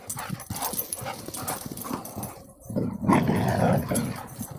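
Several huskies grow excited as another dog passes, letting out yips, whimpers and growls in a busy, overlapping burst of close-up canine noise.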